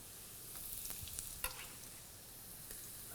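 Garlic dropped into a hot pan for corn Manchurian fries with a faint, steady sizzle, broken by a few soft scraping stir strokes.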